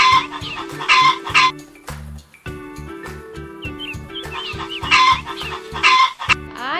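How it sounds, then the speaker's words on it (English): A hen clucks repeatedly in loud, close bursts, set over a bouncy children's song accompaniment with a steady rhythmic beat. "H is for hen."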